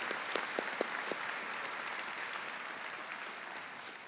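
A final round of audience applause at a university opening convocation, steady distant clapping from a large crowd that holds evenly throughout with a few sharper claps early on.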